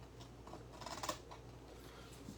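Paper card is cut by hand for a stamping project, a few faint, quick snips clustered around the middle of a quiet moment.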